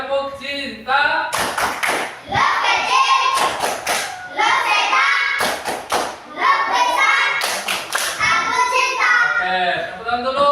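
Schoolchildren repeat a rhythmic clap-and-chant routine in class, clusters of sharp claps punctuating their unison singing, loud and close across the whole stretch.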